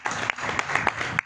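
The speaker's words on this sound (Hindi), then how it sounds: "सबसे पहले आप सभी के लिए जोरदार तालियां होनी चाहिए" Applause from a seated audience at a business talk on recruitment, a short burst of clapping with several sharp claps standing out, fairly close and loud.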